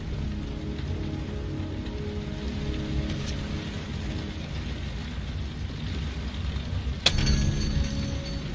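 Steady rain pours throughout a scene in the video game Heavy Rain, a dense continuous hiss with a sharp crack near the end, no speech.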